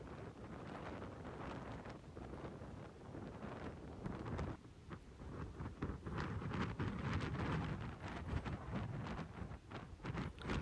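Strong wind blowing across a golf course, a steady loud roar of gusts buffeting the microphone for the whole stretch, with faint rustling underneath and no talking.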